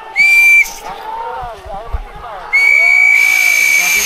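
A referee's whistle is blown to call a ceasefire at an airsoft or bivouac field event, first as a short shrill blast, then as a longer loud one, with shouting voices and crowd noise in between.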